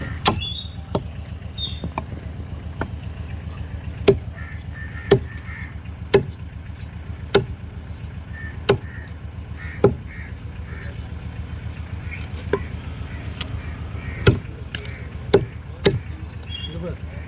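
A fish is chopped with a heavy blade at a seafood stall in Karaikal, with sharp irregular knocks repeating about once a second over a steady hum of background noise.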